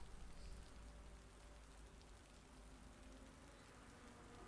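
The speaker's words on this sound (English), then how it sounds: "it's raining." Steady rain in a racing video game at the Paul Ricard circuit, a dense continuous hiss of drops that stays loud and even throughout, with no voices over it.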